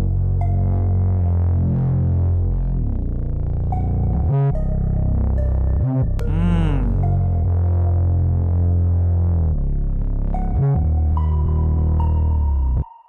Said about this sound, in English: it's better to keep the higher end empty and do more chord progressions on the low end, just utilizing bass and some elements such as my bells